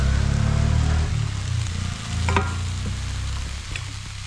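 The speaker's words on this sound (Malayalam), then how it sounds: "അടുത്ത് നമ്മൾ അരച്ചു വെച്ചിരുന്ന അരപ്പ് ചേർത്ത് കൊടുക്കുക" Ground paste being stirred into a red spinach and jackfruit seed curry in a pan, with a steady low scraping and bubbling sound and a few sharp clinks of the spoon, close and moderately loud with no voices.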